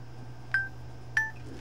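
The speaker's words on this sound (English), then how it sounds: "But I do have my cell phone right here." Cell phone keypad pressed twice, giving two short, clear electronic tones about half a second apart over a low steady hum, with no talking.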